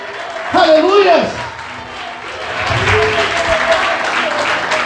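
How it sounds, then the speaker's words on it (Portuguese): A church congregation at an evening service applauds, a broad sustained clapping that swells in the second half, while a preacher's voice speaks over the start. "Você pode aplaudir o Senhor?"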